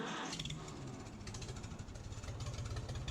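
A tractor engine in Farming Simulator 25 cranks briefly, then catches and settles into a steady, rhythmic diesel chug, clear and close with no talking.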